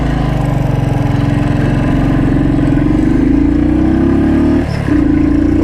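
Steady loud thumping exhaust of a Royal Enfield Thunderbird 350 single-cylinder motorcycle while riding, a continuous low pulsing drone with a brief dip near the end, heard up close.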